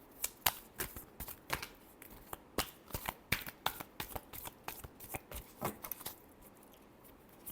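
Tarot cards are shuffled by hand nearby in a quiet room, giving a quick, irregular run of crisp snapping riffles and soft slaps with no voices.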